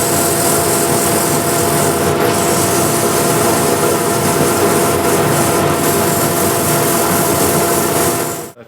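Sanding a woodturned disc flower vase spinning on a lathe: a loud, steady broadband rasping hiss with a constant motor hum underneath, continuous and close, trailing off only at the very end.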